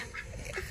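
A duck gives a brief quack, faint and short against a low background murmur.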